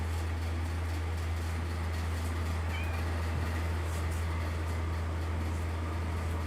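A cat lets out a single faint, brief meow partway through, nearly buried under a constant low electrical hum and hiss, with no talking.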